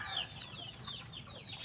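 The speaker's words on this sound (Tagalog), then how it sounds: "tandang" A yellow copper rooster clucks and calls in short repeated bursts, moderately close, over faint background farmyard noise.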